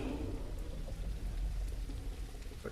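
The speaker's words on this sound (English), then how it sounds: "Hopefully the rain will cover the sound of me logging out." Steady rain falls in the survival game The Isle, a dense, even wash of rainfall with low rumbling texture running continuously and fairly quiet throughout.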